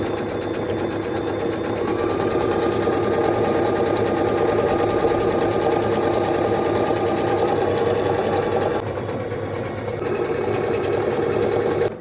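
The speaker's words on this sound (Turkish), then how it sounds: "Makine bir geri bir ileri yaparak düşüyor." Pfaff Smarter sewing machine stitching fabric back and forth, a loud continuous mechanical whir with rapid needle rhythm running nearly unbroken for about twelve seconds, briefly dipping once before resuming.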